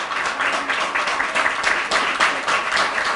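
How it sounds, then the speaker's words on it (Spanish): An audience applauds at a seminar on interculturality: steady, dense clapping from a crowd runs through the whole stretch at an even, moderately loud level with no voices over it. "un aplauso enorme para estos compañeros y compañeras"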